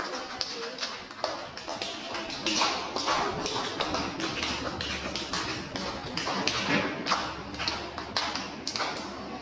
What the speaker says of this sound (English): Now clap everyone for Jamal.